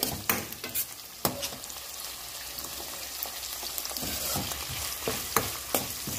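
Ingredients for bisi bele bath fry in a home kitchen pan, a steady close sizzle broken by sharp, repeated scrapes and clanks of a stirring spoon against the metal.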